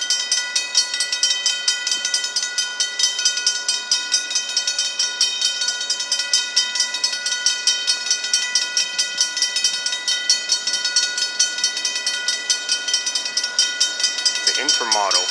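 A Union Pacific intermodal freight train rolls past at Sacramento, California, with a steady rhythmic clatter of cars and a high metallic ringing that repeats continuously, a voice speaking briefly near the end.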